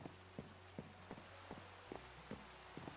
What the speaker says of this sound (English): It's raining, of course.